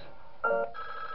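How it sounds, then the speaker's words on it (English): A telephone rings in Five Nights at Wario's: High Rollers, Night 5, as a short ring burst at moderate level followed by a steadier tonal tail, with no talk. "Alright, we get a phone call."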